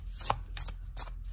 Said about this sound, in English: I guess I'll shuffle it first.